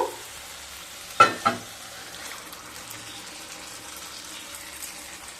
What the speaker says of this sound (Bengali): এবার সেদ্ধ করে রাখা ডাল আর ওলকপি দিয়ে দেব